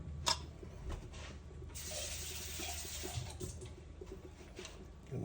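Water from a tap pours into a pot while callaloo is being cooked, a soft, steady splashing stream that runs for several seconds after a few light clanks.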